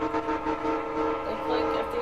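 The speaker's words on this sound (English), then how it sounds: "The clink of the arriving train stops her." A train pulling in, with sustained tonal whistle- or horn-like pitches over a rumbling rail background. The sound holds steady for a couple of seconds at moderate loudness and close range.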